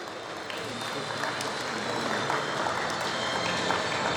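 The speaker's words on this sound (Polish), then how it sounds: "Jeszcze raz wielkie brawa." Steady, dense applause from a crowd at a youth football tournament closing ceremony, continuous clapping throughout at even loudness.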